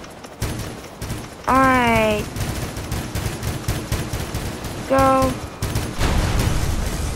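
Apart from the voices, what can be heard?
cannon fire in a battleship video game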